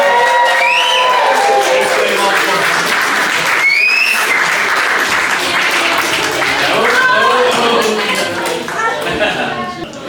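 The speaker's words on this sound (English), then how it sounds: "Round of applause for them when they do it." Wedding guests burst into loud, sustained applause with cheers and whoops throughout, a close, full crowd sound, with voices calling out over the clapping.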